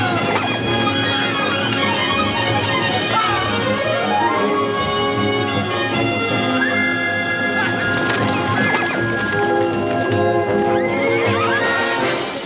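Horses in a 1946 western film, a band of them galloping with loud drumming hooves and repeated shrill neighs and whinnies over a full orchestral score, continuous and close.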